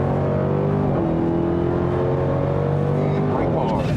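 A 2021 Dodge Durango SRT Hellcat accelerates hard on a racetrack, its engine roaring loud and rising steadily in pitch from inside the cabin, with an instructor's voice over it.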